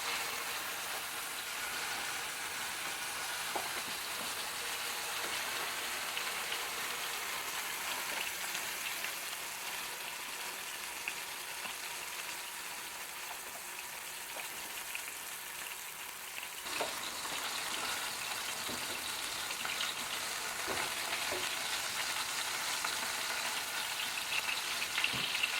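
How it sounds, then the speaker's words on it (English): Steak sizzling in a hot pan, a steady crackling hiss that continues evenly throughout, with occasional small pops and no talk. "this has gotten to the stage now where it's nice and hot, ready for the steak. So, steak, lay it away from you"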